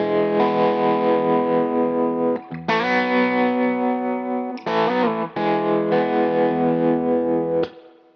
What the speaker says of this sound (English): you can really hear the tremolo come through as well as this P90 character